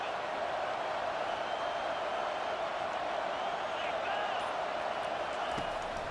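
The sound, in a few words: crowd cheering in College Football 25 video game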